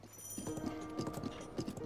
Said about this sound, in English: And this horse is still going crazy.